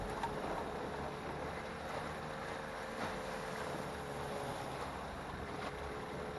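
Steady wind and choppy waves out on Lake Michigan from a small fishing boat, a constant broadband rush with buffeting wind noise and no talking.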